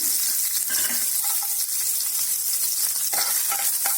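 Grated coconut sautés in coconut oil in a pan, a steady close sizzle and crackle with occasional stirring scrapes running throughout, no voices.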